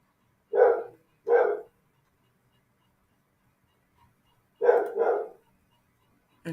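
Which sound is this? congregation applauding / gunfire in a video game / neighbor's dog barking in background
neighbor's dog barking in background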